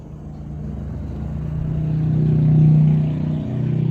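Motorcycle engines pass close by, a loud mid-pitched drone that swells to a peak near the end and then eases slightly, with no talk over it.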